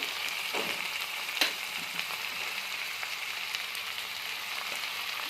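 Washed, finely chopped beans hit a hot pan for a Kannada beans palya, raising a steady bright sizzle with a few sharp crackles and occasional stirring scrapes throughout.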